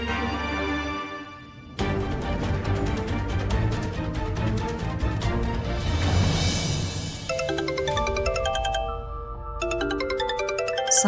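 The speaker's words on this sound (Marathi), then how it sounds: "सावंत काकांचा फोन." A phone ringtone plays as a bright melodic tune of chiming notes and bell-like tones, moderately loud and continuous over several phrases, with no voices.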